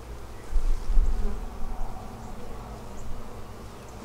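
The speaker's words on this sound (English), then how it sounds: "Lots of bees, a little bit of pollen." A dense, steady buzz of many honeybees close by at a hive entrance, swelling and fading slightly in loudness, with no voices over it.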